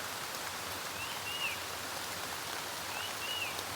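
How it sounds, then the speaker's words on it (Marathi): Light rain falls steadily in a Konkan village, a soft even hiss of drops, fairly faint, with a couple of brief bird chirps rising above it. "कारण पाऊस पण आलाय."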